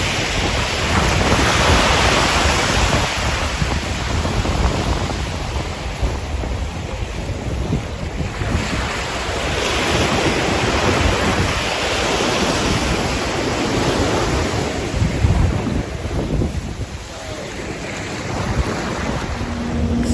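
Sea waves wash onto the beach at a Sandals resort in a steady, continuous roar, with surges that rise and fall and a constant hiss of wind buffeting the microphone; no one speaks.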